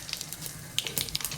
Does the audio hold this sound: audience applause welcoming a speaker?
no